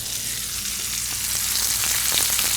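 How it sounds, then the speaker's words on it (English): Trout fries in a hot pan with a steady, close sizzle, a continuous crackling hiss with scattered pops and spits near the end, heard alone without voices. "You hear that sizzle going."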